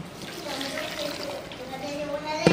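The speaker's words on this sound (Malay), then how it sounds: "Ni air rebusan ayam ya. Kita masukkan air rebusan ayam." Chicken broth poured into a blender for Malaysian chicken rice, a soft watery trickle and splash running steadily for a couple of seconds at close range, with a brief sharper knock near the end.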